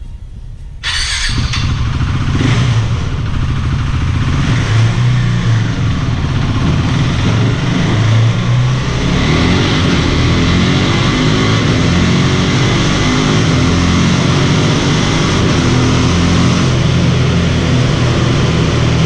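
KTM Duke 390 motorcycle fitted with a RaceDynamics quickshifter, with the engine starting and then revving hard and loud for a sustained stretch, the pitch rising and dropping through quick gear shifts.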